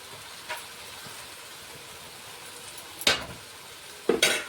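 Turmeric, coriander and garam masala powders fry in a pan for masala egg rice, giving a faint, steady sizzle. Two or three sharp spatula scrapes stand out near the end.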